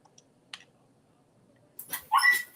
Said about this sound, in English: The dog going crazy in here, man.